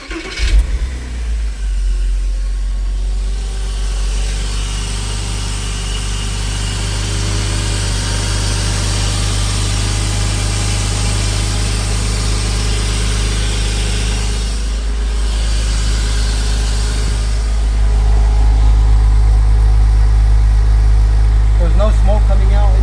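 A Porsche Boxster 986 engine cranks, catches and settles into a steady, loud idle that rises slightly near the end, with a person talking nearby.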